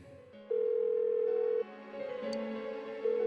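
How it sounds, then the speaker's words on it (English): A phone rings unanswered in the video game Persona 4 Golden, a steady electronic tone repeating in long sustained pulses with short gaps, fairly quiet and alone. "Why won't she pick up the phone?"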